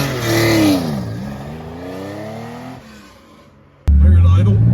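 A 1982 Porsche 911SC with a rebuilt 3.0 engine starts and revs. The rising and falling engine note fades to a low idle, then a sudden loud burst of noise follows near the end.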